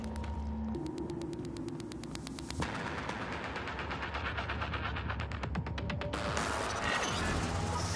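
Rapid weapon fire from the Prey video game, a steady mechanical rattle of fast repeated shots over a droning hum and static, moderately loud, with the firing pattern shifting partway through.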